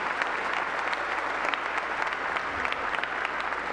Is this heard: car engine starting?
no